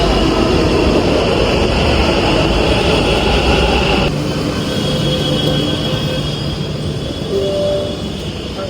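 A Bangalore metro train running toward Magadi Road gives a loud, steady rumble and rush with a high whine, and the tone shifts partway through as the train moves along.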